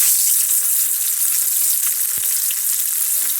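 Halibut sears in a hot pan, giving a steady, loud, close sizzle with crackling spits that carries evenly without talk.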